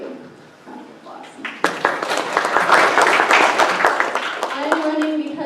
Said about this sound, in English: they really deserve a big round of applause